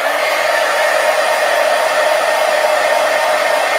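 A hair dryer blows to dry glue on the pages of an altered book, giving a steady, loud, continuous whooshing whir with no talking.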